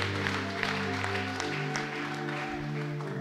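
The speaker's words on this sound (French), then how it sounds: "il applaudit très fort pour la gloire du Seigneur" A church congregation claps loudly in praise, with a dense, steady patter of many hands over sustained low keyboard tones that continue beneath it.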